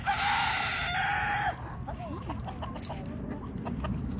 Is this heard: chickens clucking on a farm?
yes